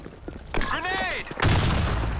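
A grenade goes off in the shooter game Blackshot: a sudden loud blast followed by a sustained low rumble, with gunfire and a player's voice just before it.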